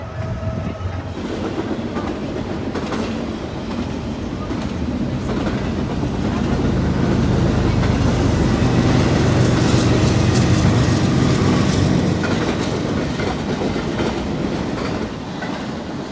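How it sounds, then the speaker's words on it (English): A Norfolk Southern intermodal freight train led by two AC44 locomotives passes close by, a steady, loud roar of wheels and rumbling cars that swells in the middle and eases slightly toward the end. "a Norfolk Southern Intermodal with 2 AC-44s leading and a GEVO as a"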